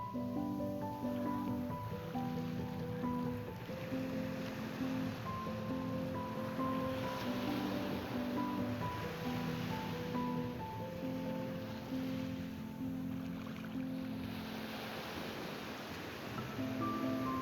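Continuous ocean surf rolling onto a 2.5-mile strip of golden sand beach in the Philippines, a steady broad wash of breaking waves, fairly distant, overlaid by sustained musical tones.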